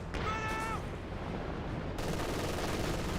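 Gunfire in a Company of Heroes 2 battle: a continuous rattle of dense, overlapping shots at steady volume, with a brief tonal whine early on and no talk.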